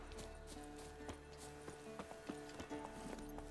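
Roach the horse gallops in The Witcher 3, a quiet clip-clop of hooves under a continuous game music and ambience bed, fairly faint and steady.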